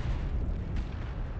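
Missile explosions in Mechwarrior Online, a steady rumbling boom with a brief sharper burst midway, dense and continuous.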